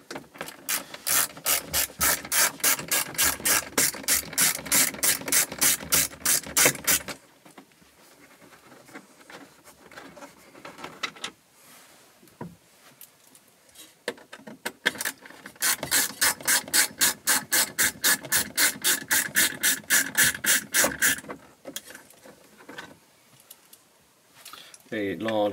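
Screws being worked out of the dashboard vents on a Land Rover Defender TD5, heard as long bursts of rapid ratcheting clicks from a nearby hand tool, with quieter pauses of handling and rubbing between them.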